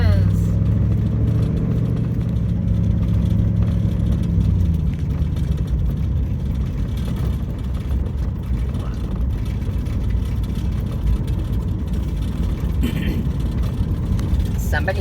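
Car engine hums steadily and fairly loud as the vehicle rolls into a camp spot near a National Monument, with a low rumble throughout and people talking over it.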